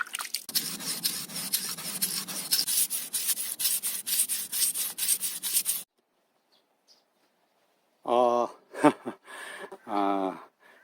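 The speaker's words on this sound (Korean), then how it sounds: "이제 칼을 한번 갈아 보겠습니다" Homemade grafting knife made from a saw blade being sharpened on a whetstone, a steady rhythmic scraping of steel on stone for several seconds, then it stops and someone talks.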